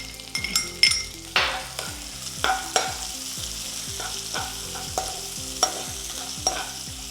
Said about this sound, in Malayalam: മുളക് നല്ലപോലെ വഴന്ന് വന്നതുകൊണ്ട് നമുക്കിനി ചെറിയുള്ളി ഇടാം.